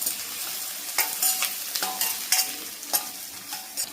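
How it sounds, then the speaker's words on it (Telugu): Green chillies and curry leaves with onions frying and being stirred in a pan, a steady soft sizzle with faint scraping clicks of the spoon throughout, no talk. "ఇవన్నీ ద్వారగా వేగనిద్దామండి"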